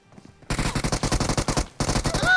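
Rapid automatic gunfire in PUBG Mobile: a fast, evenly spaced burst of loud close shots, a short pause, then a second burst, all played nearly alone with almost no talk.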